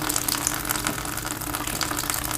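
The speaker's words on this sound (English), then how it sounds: "water is dropping into a bucket there" Water drains steadily from a plumbing drain point into a bucket, a continuous close splashing gush with no break and no voices.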